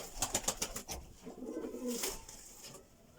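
Soft, low cooing from doves or pigeons nearby, a few rounded coos with some light fluttery rustling at the start.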